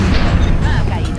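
A gunshot in the XCOM: Enemy Unknown video game is a heavy, booming blast of weapon fire that fills the moment and blends with a voice.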